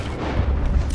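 Lancaster rifle firing in Red Dead Redemption 2, heard as a single deep, booming report that is loud and close, with no talk over it.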